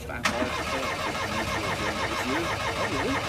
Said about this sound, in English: We'll fire it up and drive it out, so everyone can look around.